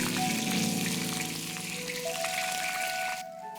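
Pufferfish pieces frying in hot lard with ginger slices in a wok, giving a steady, close, dense sizzle that fills the clip and drops off abruptly near the end.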